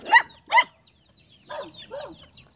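A dog on a rural farm gives two sharp barks close by, followed after a pause by two softer, whining yips, with no talking.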